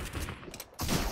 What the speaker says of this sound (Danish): Jeg skyder i ham der 6 gange med en tag